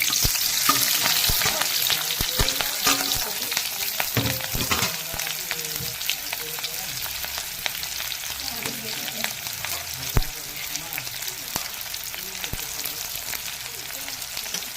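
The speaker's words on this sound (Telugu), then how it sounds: "ఇది డెకియా ఫ్రై చేస్తున్నారు అన్నమాట" Dhekiya fern sizzles as it fries in a pan with green chillies, onion and tempering seeds, a steady close crackle with occasional stirring scrapes.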